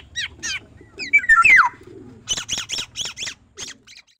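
Oriole calls recorded outdoors: a clear fluting whistled phrase, then a series of rapid harsh repeated notes, with a few quieter calls in between.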